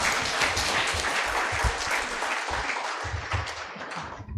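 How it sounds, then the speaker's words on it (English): Audience at a formal university signing ceremony gives a steady round of applause, a continuous crackle of many hands clapping at moderate loudness throughout. "Let's give a big round of applause."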